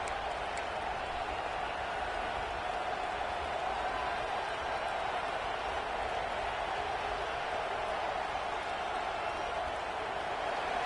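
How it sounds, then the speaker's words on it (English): Stadium crowd at a football game roaring steadily behind the home defense during a red-zone drive, a dense, continuous wash of cheering that holds level for the whole stretch without breaks. "this crowd getting behind its defense"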